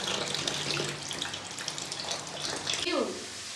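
Tap water runs steadily into a sink while fish soak in a home kitchen, a continuous hiss with a brief gush near the end and faint background voices.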